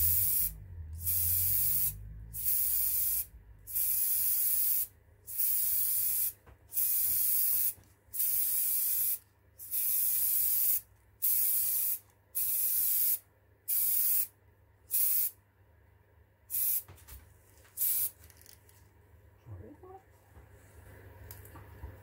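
Aerosol spray paint in white gold metallic hisses onto a wood-turned figure in about a dozen even close bursts, each a second or so long, separated by short pauses.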